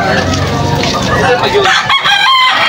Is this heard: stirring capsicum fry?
no